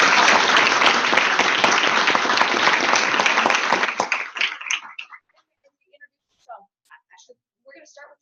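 Audience applause for a panel organizer at a film screening discussion, a loud dense wash of clapping for about four seconds that breaks off abruptly, leaving a few scattered faint claps and murmurs.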